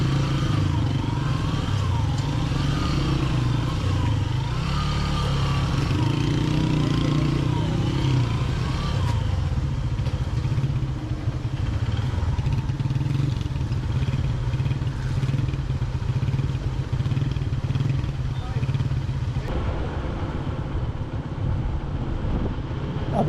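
A motorcycle engine revs loud and close as the bike churns slowly through deep mud on a mountain road, its pitch rising and falling with the throttle over steady rumbling clatter.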